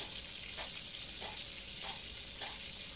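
Chickpea fritters deep-fry in hot oil with a steady, bubbling sizzle that rises in soft, regular surges.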